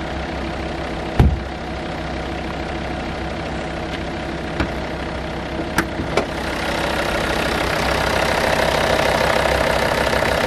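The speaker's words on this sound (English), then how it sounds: "No knocks or bangs, very smooth engine." A car engine idles steadily up close, a smooth continuous rumble with a few small clicks and knocks, growing slightly louder toward the end.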